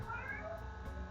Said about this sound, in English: So you might hear some meows in the background.